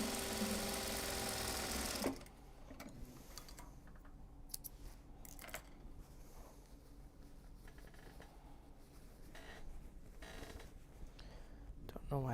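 A domestic sewing machine runs steadily, stitching Japanese fabric for a large box bag, with a loud motor burst at the start and then a lower continuous hum with small clicks and shifts.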